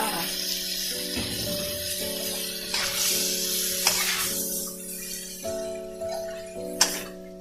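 Crispy fried tilapia is stir-fried with chili and long beans in hot oil, giving a steady sizzle with occasional sharp scrapes and clinks of the spatula, under a sustained tonal hum.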